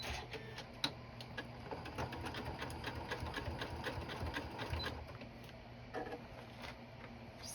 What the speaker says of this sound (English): I'm just going to run my decorative thread right along the carrots here.